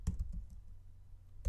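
Keys clatter on a keyboard in a few quick close taps at the start, a pause, then another tap burst at the end, fairly quiet and with no talk.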